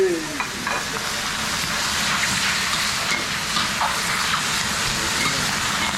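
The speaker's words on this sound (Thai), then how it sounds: "การผัดของเรานี่จะผัดแบบไฟแรง แดงถึงใจ" Pork stir-fried over high heat in a pan, sizzling loudly and steadily throughout with a dense, continuous hiss and occasional scraping of the stirring utensil.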